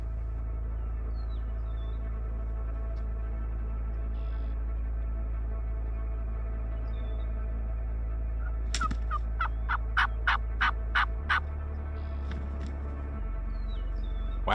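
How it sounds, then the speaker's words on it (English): Wild turkey gobblers gobble repeatedly in a spring turkey-season field, a run of loud, sharp bursts in quick succession about midway through, over a steady low outdoor rumble with no talking. "got a couple of gobblers gobbling"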